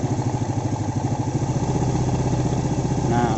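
A Yamaha Vega ZR motorcycle engine, rebuilt with a Vario 125 piston, idles close by with a steady mid-pitched chug and lifts into a light rev near the end during an oil pump check.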